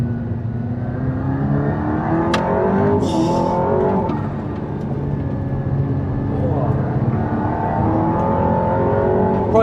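An Aston Martin Valhalla driven on a race track, its engine pitch sweeping down under braking and climbing again out of the corner with gear changes, loud and close, while the driver talks over it.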